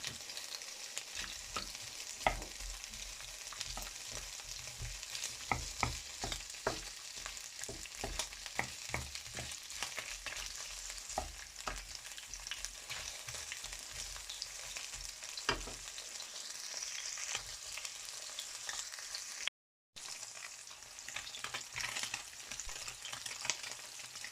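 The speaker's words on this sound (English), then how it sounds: "So for that I put oil in the pan, like 2 tablespoons. And then we can put the sausage." Sausages fry in about two tablespoons of hot oil in a pan, a continuous close sizzle broken by repeated sharp crackles and pops, with occasional stirring scrapes.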